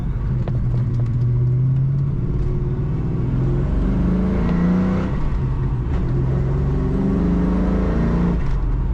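A 1999 Ford Mustang SVT Cobra convertible with a 5-speed manual accelerating through the gears, a loud rumbling engine with rising revs and shifts, heard from inside the car with a faint supercharger-like whine.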